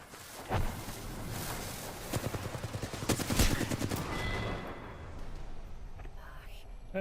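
Automatic gunfire in Apex Legends, rapid bursts and scattered shots of moderate loudness, with a voice talking quietly under them.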